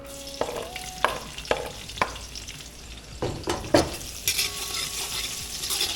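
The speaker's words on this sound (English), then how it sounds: "Let that saute for a minute or two." Onion, garlic and pimento sauté in a curry pot, with a soft steady sizzle under a run of sharp spoon-on-pot scrapes and knocks that grow busier toward the end, and no talk.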